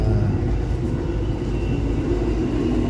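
Steady low rumble of a VIA Rail passenger train rolling along the rails, heard from inside a corridor, constant and fairly loud with no talking.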